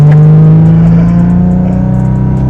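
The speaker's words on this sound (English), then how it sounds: "you can hear he's got T51R mod on this too, so it's loud. It just whistles" A VHR-swapped Nissan 350Z with a turbo accelerating, its engine a loud, steady, close drone held throughout, with a thin high whistle riding above it.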